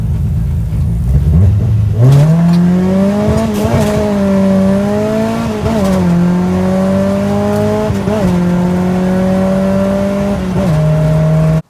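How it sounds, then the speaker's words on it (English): A Honda CRX engine, naturally aspirated with no nitrous, accelerates hard through several pulls, its loud raspy drone rising in pitch and dipping briefly at each shift, continuous and close with no talking. "I did a couple pulls and tried to get it on video."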